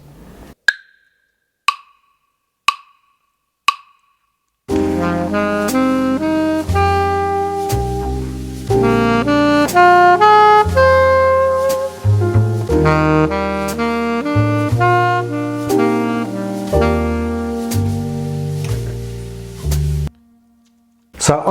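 A few short soft clicks, then an alto saxophone plays a flowing line of sustained notes moving through chord tones, steady and close, ending with a held note.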